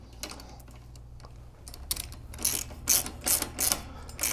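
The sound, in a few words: tightening a bolt on motorcycle crash bars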